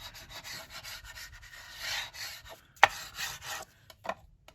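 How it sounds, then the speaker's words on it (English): Paper and washi tape on a junk journal page are burnished by hand in close, steady rubbing strokes, broken by one sharp tap and a few short scrapes near the end. "All right, so burnish this down."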